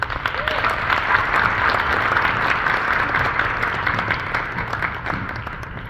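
Sustained applause from an audience at a Martin Luther King Jr. Day of Service Peacemaker Award event at MCLA, a dense, steady wash of clapping that holds at full level throughout.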